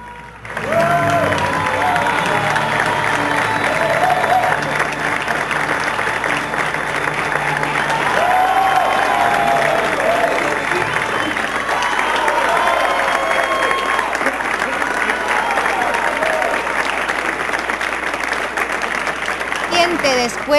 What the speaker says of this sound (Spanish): Ese primer aplauso, esa primera ovación para ustedes.